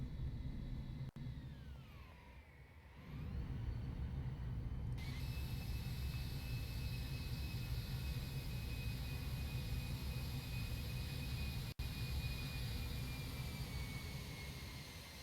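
Jet airliner landing in X-Plane 11, its thrust reversers and spoilers deployed, a continuous low engine roar with a whining tone that shifts and then holds steady, interrupted by two sharp clicks.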